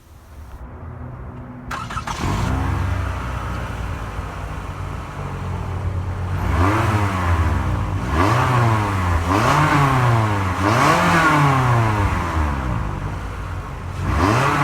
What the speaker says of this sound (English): To start the engine, simply insert the key and twist.